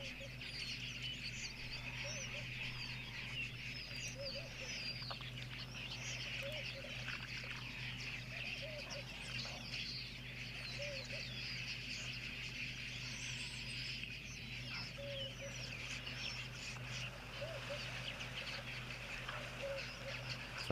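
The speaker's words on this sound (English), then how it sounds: "You can also just hear the Egyptian geese are around as well in the morning" Egyptian geese calling in the morning outdoors at a wildlife reserve, distant honks and cackles scattered through a steady chorus of insects and other birds, faint and continuous, with no one talking.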